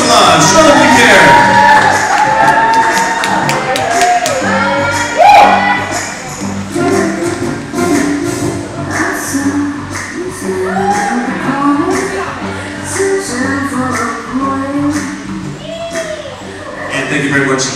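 Lively crowd at a dance team competition cheering, whooping and shouting for the dancers, a loud sustained roar with scattered yells and some voices over it throughout.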